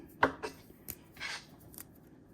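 Fresh oregano leaves, stripped from their stems, being finely chopped with a knife on a cutting board: a few quick, sharp cuts and scrapes spread irregularly over two seconds, close and fairly quiet.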